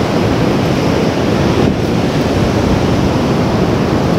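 Sea waves wash continuously against an eroding beach at Atafona, a loud, dense roar of surf mixed with wind buffeting the microphone, with no talk.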